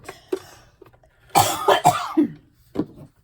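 A person coughs several times nearby, with a short throat-clearing hack amid the bursts.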